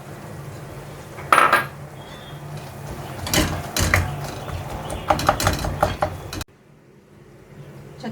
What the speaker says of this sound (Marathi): ह्याच्यात मटार टाकले.